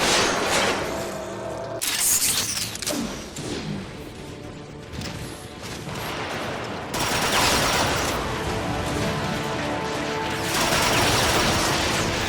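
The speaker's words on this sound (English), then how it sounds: "Autobots, open fire!" Dense, continuous gunfire and crashing explosions from a Transformers: Rise of the Dark Spark video game battle, loud and sustained throughout with mechanical clanks and impacts layered in, no speech.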